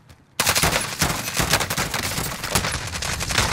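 M16 rifle fire in a first-person shooter game, opening after a brief quiet moment into a sustained, loud run of rapid automatic shots with sharp cracks and punchy low thumps, no voices present.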